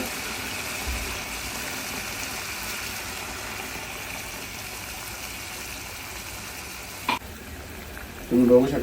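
Gaboli chivni fish curry simmers in a pot, giving a steady low bubbling hiss that runs evenly for several seconds before a brief clatter and a short burst of noise near the end.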